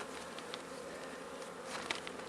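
Honey bees buzz steadily around an open hive entrance, a dense droning hum with individual bees passing close now and then, with no voices.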